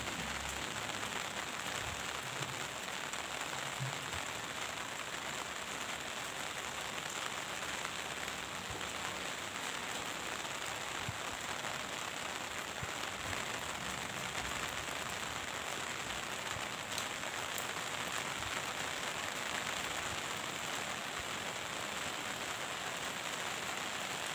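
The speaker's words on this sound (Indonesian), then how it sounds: "Untungnya nggak terlalu masih gerimis guys." Light drizzle of rain falling outdoors, a steady, soft, even patter with no distinct drops standing out, continuous and fairly faint throughout.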